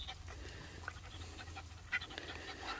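A three-month-old Malinois puppy of about 8 kg pants in quick, steady breaths, faint and close, with a soft whimper-like sound and no talking.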